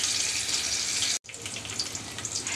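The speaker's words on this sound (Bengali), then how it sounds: "পেঁয়াজ আর রসুনটাকে নরম ভাজা করে নিচ্ছি" Onion and garlic frying soft in a pan, a steady bright sizzle that cuts out for an instant mid-way and then resumes at the same level, with no talking.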